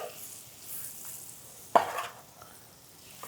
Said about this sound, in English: we're just gonna saute those up